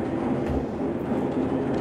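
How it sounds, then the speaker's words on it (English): A train ride in the 1998 video game Half-Life, a continuous rumbling rolling drone inside the carriage, steady and fairly loud without speech. "Yeah, you're in a train."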